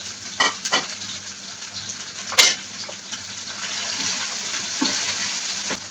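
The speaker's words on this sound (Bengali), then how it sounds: "রসুনটা একটু পেঁয়াজের সাথে ভেজে নিচ্ছি।" Garlic, onion, chopped tomato and green chili fry in hot oil for a potato bhaji, a loud continuous sizzle broken by a few sharp spoon clacks and scrapes against the pan.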